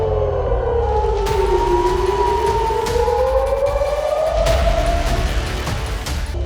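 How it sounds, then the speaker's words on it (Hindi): Air-raid sirens wail in long, slow rising and falling tones at midnight during missile strikes in the Israel–Iran war, loud and steady over a low rumbling background with sharp distant bangs. "ये सायरन की आवाजें युद्ध की घोषणा कर रही हैं।"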